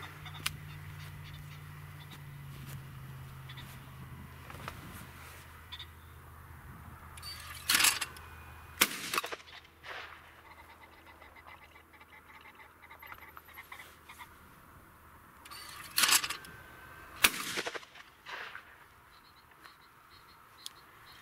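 A 6 3/4 pound Fabarm Elos D2 20 gauge over-under shotgun fires outdoors on pheasant ground: two pairs of sharp, loud reports, each pair fired in quick succession, separated by quieter ambient stretches.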